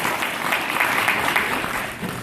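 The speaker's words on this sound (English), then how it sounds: "give them a good round of applause" Applause from an audience greeting tribe members in traditional Choctaw dress, a steady, dense wash of clapping held at even loudness for a couple of seconds, a voice faintly audible beneath it.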